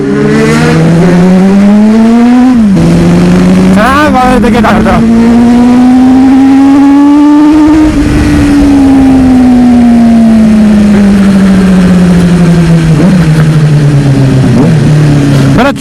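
A group ride of superbikes, a CBR600, F3, GSR600 and Duke 390 with raw exhaust, on a highway in Nuwakot: a loud engine drone climbs and falls in pitch through gear changes while someone talks over it.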